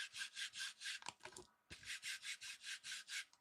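A gritty pickleball paddle face is rubbed back and forth in a steady rasping rhythm, about a dozen close, dry scrapes with a brief pause and some handling knocks partway through.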